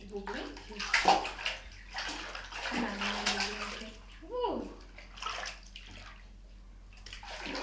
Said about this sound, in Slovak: krásne ty šplieškaš